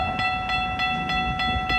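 A GO Transit train at Bradford GO Station, with MP40 and F59PH locomotives nearby, gives a steady close-range rumble and tonal hum, with regular faint wheel clicks repeating about every third of a second.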